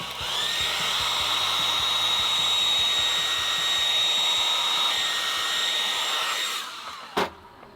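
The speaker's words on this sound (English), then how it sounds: "If the hairdryer doesn't work, I'll have to use the heat gun" A hair dryer blows hot air onto plastic to bend it during a DIY Unimog expedition truck build, a loud, steady high whine and rushing airflow for several seconds before cutting off, followed by a single sharp knock.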